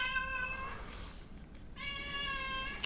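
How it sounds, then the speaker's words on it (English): A cat meows twice in the background, two drawn-out tonal calls separated by a brief gap, fairly clear over a steady low hiss. "It's a cat in the background."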